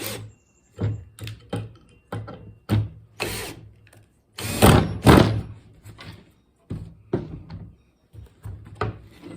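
A longer screw is driven into a homemade skull-and-cross grave marker with a hand ratchet, giving loud, close bursts of rhythmic clicking and scraping, some short and some longer, separated by brief pauses.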